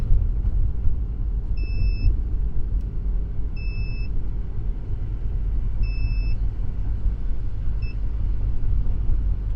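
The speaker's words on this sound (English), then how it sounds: "Goodness, that beeping is stressing me out." Repeated electronic beeping from a car, four evenly spaced double-tone beeps over a steady low engine rumble, fairly loud and without talk.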